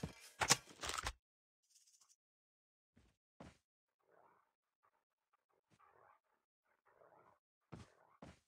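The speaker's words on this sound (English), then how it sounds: "canine unit incoming." An attack dog from the canine unit in Call of Duty Mobile barks loudly in a rapid burst, then gives scattered softer pants and whimpers between quiet gaps before two more sharp barks.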